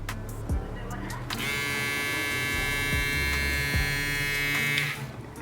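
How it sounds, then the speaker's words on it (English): A Gamma Uno electric shaver switches on with a click and runs as a steady, close buzzing hum, preceded by handling clicks and ending as it powers down. "So this is the shaver. Let's turn this thing on."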